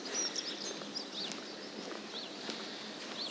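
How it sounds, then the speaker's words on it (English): Morning birdsong near a cove on a cold, misty day, scattered high chirps and tweets over a soft wash of ambient noise, with faint footsteps from someone walking. "you can still hear all the birds singing away"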